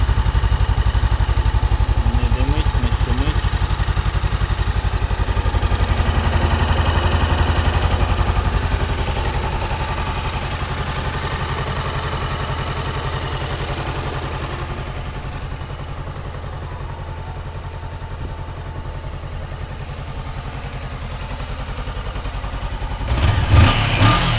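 A Honda CB400X motorcycle with about 23,000 km runs at a steady idle, a close, even mid-pitched engine hum that eases slightly partway through before a brief clatter near the end.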